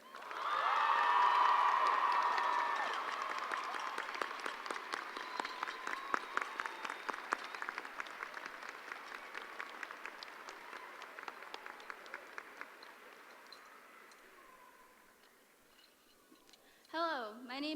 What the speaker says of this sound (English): let's give a great round of applause for the proud members of the Golden Grad Class of 1967